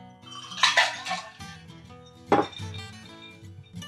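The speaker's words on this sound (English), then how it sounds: "We're just going to dump out that ice water" Ice water dumped from a cocktail shaker while mixing a maple bourbon cocktail: two short bursts of rattling ice and splashing, close and fairly loud, over steady background music.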